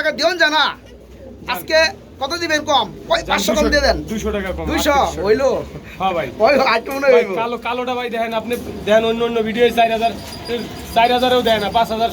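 Pigeons coo at a pigeon farm beneath steady close conversation between people, the birds' low calls mostly masked by the voices.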